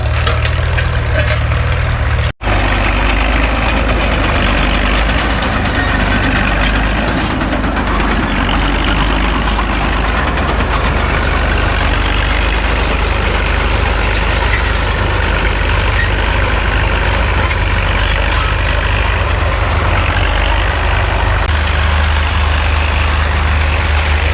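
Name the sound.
Allis-Chalmers WD tractor engine plowing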